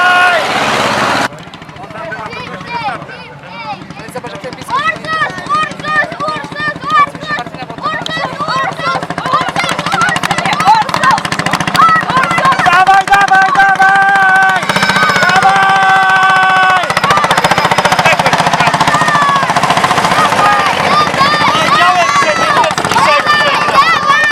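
Tractor engines roar and rev hard during a rural tractor race in Wielowieś near Pakość, Poland, a loud sustained mechanical drone rising in pitch with shouting voices over it.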